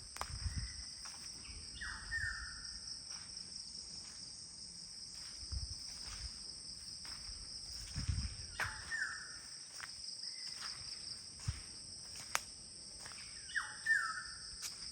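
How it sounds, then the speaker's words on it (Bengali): Assorted birds call from trees around a hilltop cottage, with short chirps and calls recurring over a steady, loud chorus of crickets and insects; no one speaks. "এবং বিভিন্ন রকমের পাখির ডাক তো শোনা যাচ্ছে"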